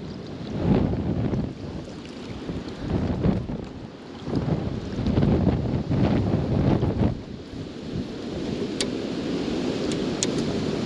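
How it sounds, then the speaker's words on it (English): Strong wind roars across open water around a small boat during magnet fishing, buffeting the microphone in heavy, surging gusts. The rush swells and fades several times, then settles into a steadier hiss. "That wind gets to pushing, dude."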